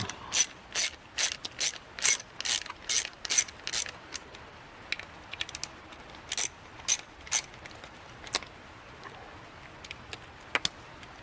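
A hand socket ratchet clicks rapidly while loosening screws on a Murray lawnmower, with bursts of sharp close ratcheting strokes in a quick rhythm, then sparser, slower clicks toward the end.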